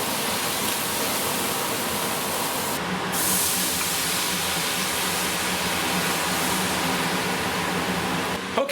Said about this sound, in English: We're going to deglaze the pan one more time with Merlot to get every last bit of flavor out of there